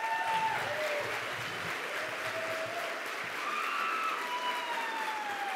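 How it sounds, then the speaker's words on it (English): A graduation ceremony audience applauds its graduates, a steady, sustained roar of many hands clapping throughout, with faint thin tones drifting above the crowd. "yeah, another round of applause for these amazing people."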